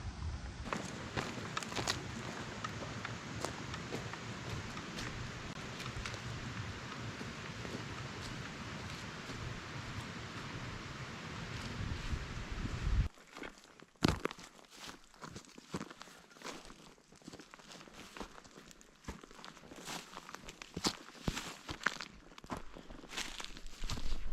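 Footsteps on a dirt hiking trail climbing uphill through the La Jolla Springs area, a steady crunching tread that starts dense and rough, then thins into sparser, lighter steps with faint outdoor rustle, quiet and alone without talk.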